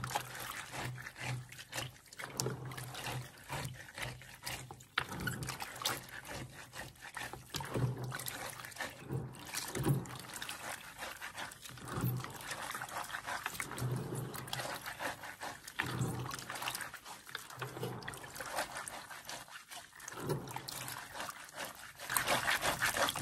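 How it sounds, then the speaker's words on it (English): Water is poured onto brown beans for washing, giving a continuous trickling, splashing wash of liquid with sporadic knocks and rustles, fairly close and steady throughout. "So I'll add water to start washing it."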